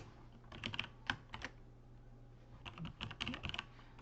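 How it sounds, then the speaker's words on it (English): Rapid keystrokes on a computer keyboard as an email address is typed, arriving in two short bursts of close, crisp clicks separated by a brief pause, with no talking. "So if I type my email address,"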